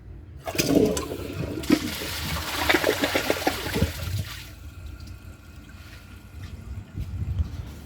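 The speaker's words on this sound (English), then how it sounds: "So let's give it a flush and do some tests." A 2008 Kohler Wellworth toilet flushes close up, a loud rushing swirl of water that peaks and then drains away quickly into a quieter trickle and refill.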